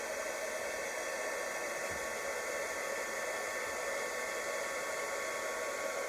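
A heat embossing tool blows a steady, even airflow hiss throughout, continuous and fairly close, with no voices over it.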